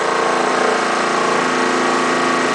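Portable dual tub washing machine on its spin dry cycle, a loud steady motor whir with a constant hum, no voices.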